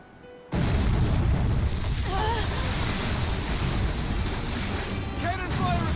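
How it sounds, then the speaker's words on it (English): Pirate ship cannon fire in the Tales of Berseria video game: a sudden loud roaring blast that stays dense and rumbling throughout, with faint voices beneath it. "Cannon fire astern!"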